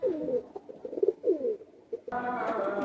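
A male and female pigeon pair coo softly and close by, with several low throaty rolling calls, then a brighter, denser stretch of sound at the end.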